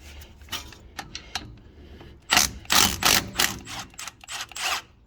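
A 3/8-inch ratchet works a small brake caliper bolt on a truck during a brake and rotor job, giving close, sharp clicking bursts that start sparse and faint, then turn loud and rapid in several quick runs.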